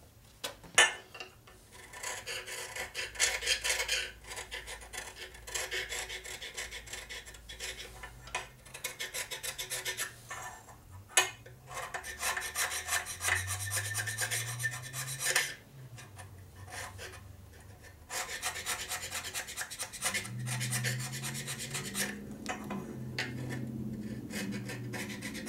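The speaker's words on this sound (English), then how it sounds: "I can either sand it off or I can scrape it off first." Gasket material being scraped off a part from a 1958 Harley panhead 74ci engine, with long rasping strokes in repeated bursts that are close and steady, with no voices.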